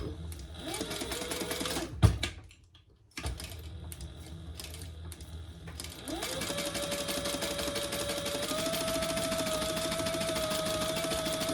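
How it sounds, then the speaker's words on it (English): Sewing machine stitching a fabric seam across the top of a teddy diaper backpack, a brief start and stop with a thump, then a steady loud continuous whirring run close by, no talking. "And we're just sewing across that top."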